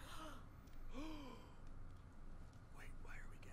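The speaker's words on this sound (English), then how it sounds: "Wait, why are we gasping?" Several characters in Tiny Tina's Wonderlands, the fantasy shooter game, let out short breathy gasps with rising and falling vocal tones, close and clear over a steady game soundtrack.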